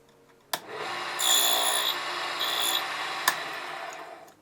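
A miniature table saw cuts a dado in a small wooden piece for 1:12 scale benches: a sharp click starts a steady, thin whirring rasp that swells briefly and ends with another click.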